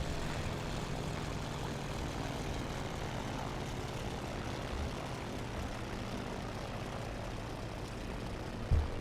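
Propeller engine of an F4F-4 Wildcat fighter plane coming in to land in a flight simulation game, a steady, dense droning roar throughout with a brief thump near the end.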